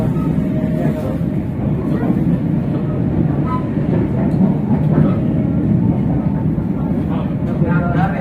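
A passenger train rolls steadily into Cikudapateuh station near Bandung, its low continuous rumble and clatter filling the whole stretch, with people chatting over it throughout.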